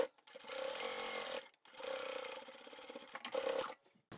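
Sewing machine running a top stitch along the folded edge of a reversible lined tote bag, two sustained motor-driven stitching runs separated by a brief pause, then a shorter burst, close and steady.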